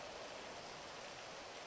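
Steady rain falls in GTA Online, a constant broadband hiss that stays even and unbroken throughout the short stretch, fairly quiet, with no voices over it.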